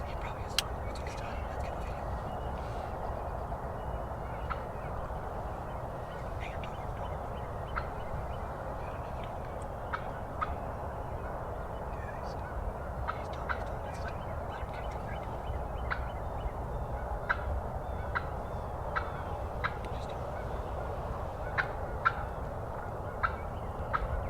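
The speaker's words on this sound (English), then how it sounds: "Got a ton here showing off for the hens. Field's still full of turkeys." Wild turkeys gobbling in a Wisconsin field full of birds during spring season, repeated short gobbles at a distance over steady low rumble, with quiet whispered talk nearby.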